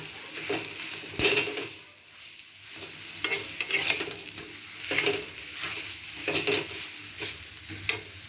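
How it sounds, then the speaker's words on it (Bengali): A potato mixture with turmeric, cumin and coriander powder is stirred in a pan, making soft rhythmic scraping and shuffling strokes every second or so, with a faint sizzle underneath and no talking. "হলুদ গুঁড়ো, জিরে গুঁড়ো, ধনে গুঁড়ো। সব কিছু ভালোভাবে মিশিয়ে নেব।"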